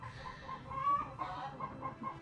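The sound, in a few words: hens singing egg songs in chicken coop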